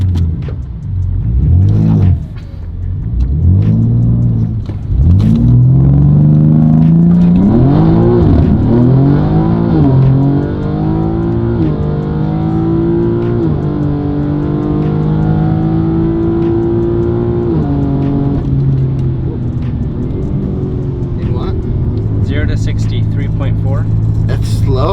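Twin turbo Lamborghini Huracan launching on a drag run, its engine climbing through repeated rising revs with gear-change dips, loud and close, wheelspin and people talking over the sustained roar.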